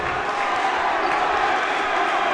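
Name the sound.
basketball crowd cheering for the Saints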